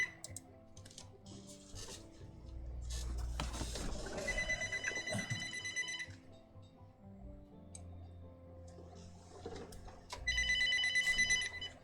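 A telephone rings in two bursts of bright trilling bells separated by a pause, fairly close, with light tapping and handling noises in between.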